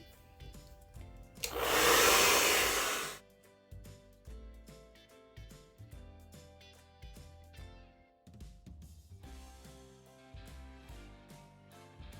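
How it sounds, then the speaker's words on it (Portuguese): A hair dryer roars to life briefly for about two seconds, heating a plastic sewing piece, then cuts off, leaving quieter handling noises and background music. "eu ligo novamente o secador, esquento mais um pouquinho"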